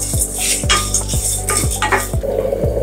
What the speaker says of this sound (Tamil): இதெல்லாம் போட்டு நல்லா வறுத்துக்கலாம்.